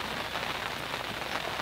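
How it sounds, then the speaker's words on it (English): Steady rain falling outdoors during a tench fishing session, a dense constant patter of drops on surfaces, even and moderately loud with no voices. "And it's rained ever since I got here."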